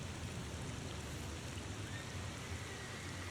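Steady rain in the game The Thaumaturge, a faint continuous patter and hiss with no breaks and no voices.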